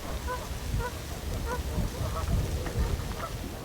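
Canada geese and white-fronted geese honk in a repeated, overlapping chorus at moderate distance, mixed with other waterfowl calls over a steady autumn wetland background.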